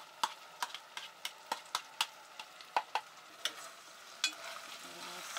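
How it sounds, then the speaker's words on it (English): Bacon and beef are stirred into onions in a stew pot during RV campground cooking: a steady run of sharp spoon clicks and scrapes against the pot, close and fairly regular, over a low background hiss. "Stir it together."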